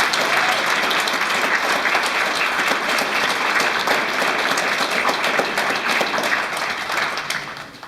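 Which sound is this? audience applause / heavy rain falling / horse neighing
audience applause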